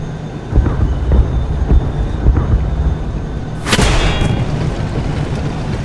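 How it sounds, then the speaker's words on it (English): Battlefield rumble in the game Tank Squad brings low, thudding booms under a steady engine drone, and then a single loud, sharp blast from a requested air strike lands partway through and rings out afterward. "Wir benötigen einen Luftangriff. In markierter Position."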